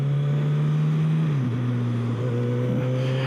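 A 2016 Suzuki GSX-S 1000 motorcycle engine drones steadily under load, its pitch dropping sharply partway through as the rider shifts gear, then pulling again with a steady hum.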